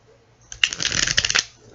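A brief riffle of a tarot deck being shuffled close up, one quick papery burst of rapid card flicks lasting about a second in a quiet room.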